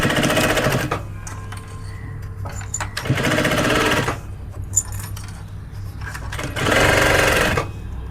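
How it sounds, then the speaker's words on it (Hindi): A sewing machine stitching pieces of fabric scraps runs in three loud bursts of fast, steady mechanical chatter, close up, with quieter pauses and small handling clicks in between. "Now I am going to stitch this."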